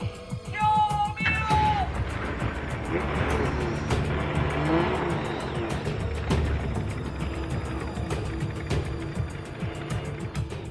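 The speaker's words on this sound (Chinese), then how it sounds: "发动机的噪音轻而易举就可以掩盖掉人声" A modified car's engine roars loudly and continuously inside the driver's cab, its pitch sweeping up and down, with a few brief high cries near the start that are soon buried under the engine.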